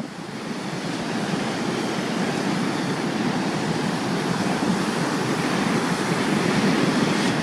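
Waves and surf at San Gregorio Beach, a steady broadband wash of breaking water with some wind noise, continuous and fairly loud.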